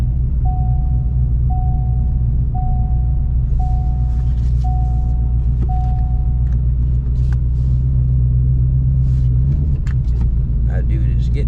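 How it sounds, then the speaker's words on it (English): A truck rolls onto a weigh scale with a steady, heavy engine rumble. Six evenly spaced electronic beeps ring out over it at the start, then the motor noise continues and shifts slightly near the end. "that guy is coming to get his truck weighed"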